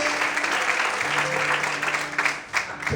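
A church congregation applauding, a loud sustained burst of clapping that swells and then thins toward the end, with voices and a held tone faintly underneath.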